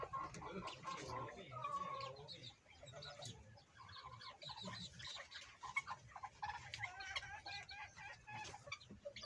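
Month-old bantam chicks peep continuously in a busy high-pitched chorus, with clucking adult fowl nearby and low background noise throughout.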